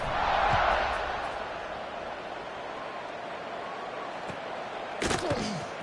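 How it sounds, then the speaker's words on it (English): Football stadium crowd buzzing after a touchdown in a college game against USF, a steady broad roar throughout with a brief louder burst of cheering near the end. "this crowd is buzzing after that last score"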